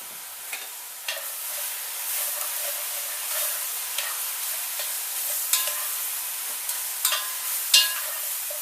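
Chopped tomato cooking with garlic in a pan for a beef stew, a steady bright sizzle punctuated by occasional scrapes and taps of a utensil, close and continuous with no voices.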